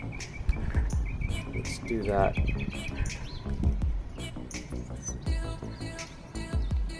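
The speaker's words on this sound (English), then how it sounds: "We can check on the birds while we're here." Birds chirp and tweet in a backyard, bright repeated calls scattered throughout alongside clattering household sounds and a person speaking briefly nearby.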